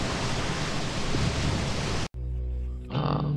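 Jungle waterfall in the video game Dead Island, a dense roaring rush of falling water that cuts out abruptly, leaving a quieter tonal game ambience.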